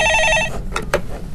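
A telephone rings with a repeating electronic trill on a radio stock-market call-in show, sounding loud and close for about half a second before it cuts off, followed by a brief voice.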